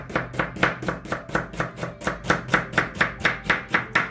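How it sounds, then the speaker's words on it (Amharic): A knife chops onion on a cutting board while preparing a fasting vegetable soup: steady, evenly spaced close-up strokes, roughly four per second, crisp and unbroken, with no talking. "ሽንኩርቱን በመክተፍ ጀምራለሁ።"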